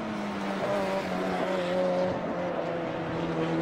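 A race car on a hot lap at Circuit of the Americas holds a steady engine note that rises and falls as it shifts and works through corners, heard from onboard and continuous, with no talking.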